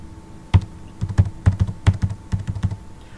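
Typing data into an Excel data entry form on a computer keyboard, a close run of crisp key clicks in quick irregular bursts with a few heavier strokes, no voices.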